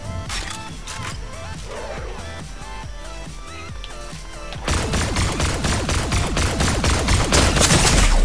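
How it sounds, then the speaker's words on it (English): Rapid bursts of Cobra gunfire in a video game, loud and dense, growing louder and more continuous over a game soundtrack, with no talk. "Bro, how are you shooting that fast, man? It must be that Cobra, eh?"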